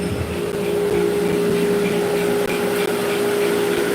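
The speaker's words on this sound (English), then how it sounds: "So then I do have a dust collection system that's running." A woodworking dust collection system runs in the next room and is carried through a hose, making a loud, steady whooshing roar with a constant hum that continues without a break, with no talking.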